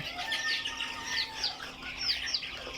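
Several Egyptian Fayoumi chickens cluck and chirp in quick, overlapping calls nearby, with a steady low hum underneath.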